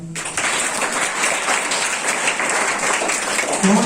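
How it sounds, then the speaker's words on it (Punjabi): An audience at a motivational lecture on environment protection breaks into applause: a dense, steady burst of many hands clapping that lasts a few seconds, loud and close. "ਤਾੜੀਆਂ।"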